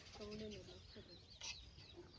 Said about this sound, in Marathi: कोंबड्या पाहते तू